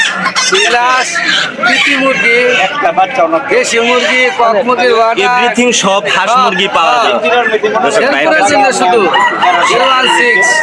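Chickens and roosters at a local duck and chicken market in Nalitabari, Bangladesh, crowing and clucking loudly and continuously from a dense crowd of birds, mixed with people talking nearby.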